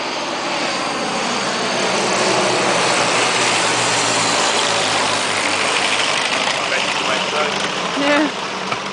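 Biplane engines droning past during a dogfight display, a loud, steady propeller roar that stays close throughout, with a brief swell near the end.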